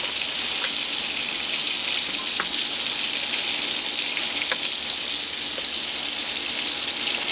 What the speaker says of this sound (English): And then just get this nicely browned up.